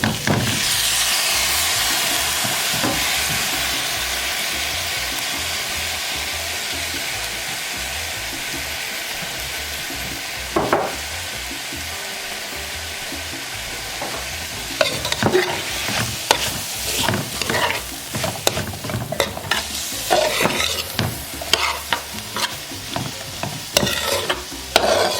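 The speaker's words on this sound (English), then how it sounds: "We'll let this saute for a bit." Four tomatoes sauté in a pot for curry goat, giving a steady hiss and sizzle that continues throughout, while a spoon scrapes and stirs in repeated bursts toward the end.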